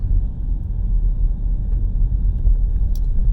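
A big truck on the road gives a heavy, continuous low rumble close by, steady and loud without any talking.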